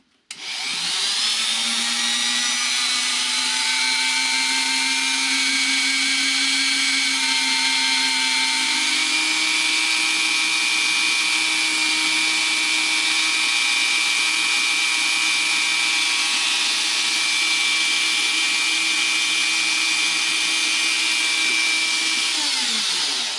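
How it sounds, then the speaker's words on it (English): A rotary tool smooths the ends of a wire-wrapped crossbar pendant, a loud high-pitched whirring that starts abruptly, holds steady with slight pitch shifts for about twenty seconds, then stops. "I'm going to take my rotary tool and just clean this up."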